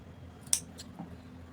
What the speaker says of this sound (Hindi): अब हमें यहाँ से थोड़ा सा काट लगा देना है